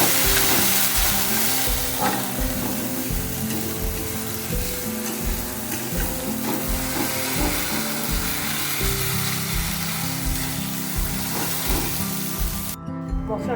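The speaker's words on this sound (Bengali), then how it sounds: "ভালো করে কষিয়ে দেবো এই মশলাটা" A spice masala with green chili paste fries in a pan, a continuous loud sizzle with regular scraping stirs throughout.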